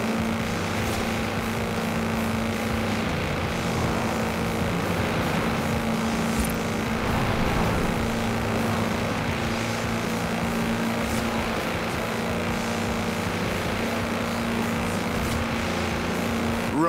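A tractor on 54-inch mud tyres speeds along in Forza Horizon 4, giving a steady, loud, droning engine roar with a constant hum that holds for about seventeen seconds without a break.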